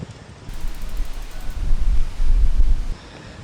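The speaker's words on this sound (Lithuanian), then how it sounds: "Aina savo, koks vėjas." Strong wind blows across a mountain bike trail, a loud rumbling roar buffeting the microphone that swells for a few seconds before easing off.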